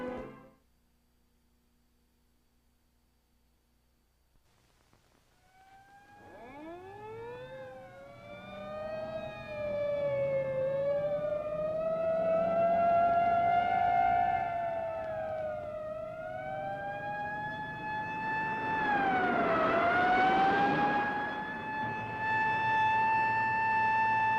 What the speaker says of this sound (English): An ambulance speeds through Peyton Place on its way to the Harrington house.